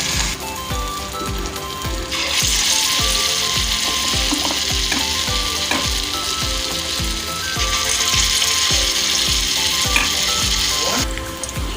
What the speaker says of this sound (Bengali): বড়া আমার ভাজা হচ্ছে